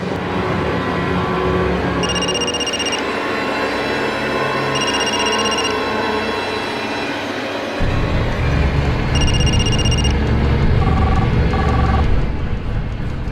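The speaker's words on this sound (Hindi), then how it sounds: "ये फोन क्यों नहीं उठा रही है?" A phone rings repeatedly in regular bursts with no one answering, over a background of traffic noise that grows louder partway through.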